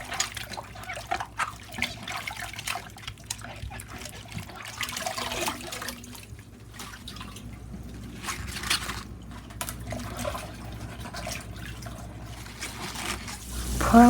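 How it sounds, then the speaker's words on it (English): Water trickles and splashes as it drains through a colander from pickled mustard greens, a soft continuous flow with occasional drips and a louder gush at the end. "Shake up the water before draining with a colander."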